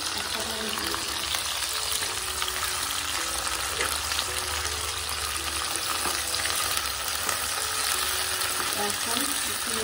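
Onion, capsicum, ginger, garlic and green chili fry in a pan for chili chicken, giving a loud, continuous sizzle with faint stirring scrapes throughout.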